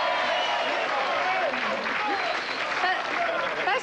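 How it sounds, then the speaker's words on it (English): A studio audience on a 1984 music television show claps warmly for a guest, a full, even wash of many hands lasting nearly four seconds, with crowd murmur and a voice or two under it. "go on, give him a clap."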